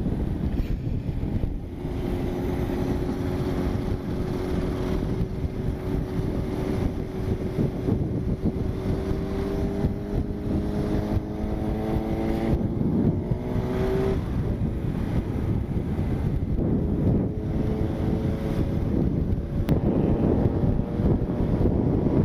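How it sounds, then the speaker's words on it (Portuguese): A Honda CB1000R motorcycle accelerates on an open road, its engine note rising in pitch over several seconds, half buried under steady roaring wind noise. "Acelera essa CBzona."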